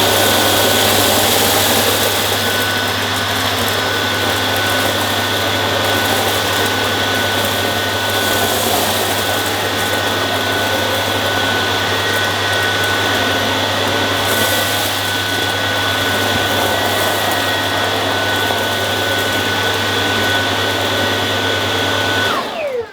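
A Dyson Ball DC49 vacuum cleaner runs on a kitchen floor, a loud steady high-pitched whine and airy roar with a low motor hum, continuous and close for over twenty seconds with no talking.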